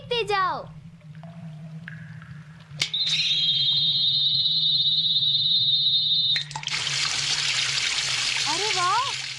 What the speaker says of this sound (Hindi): ये देखो पानी कितनी तेजी से बह रहा है